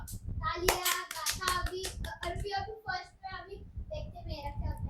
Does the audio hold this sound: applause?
yes